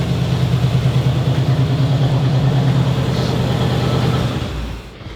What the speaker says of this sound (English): This boy loud, man. That dual exhaust ain't no joke.